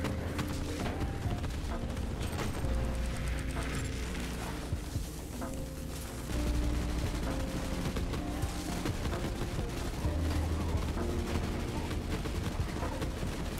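Rapid automatic fire from the M10 La Varlope assault rifle in a video game, a dense, sustained stream of shots with heavy booming low end running almost the whole time and barely letting up.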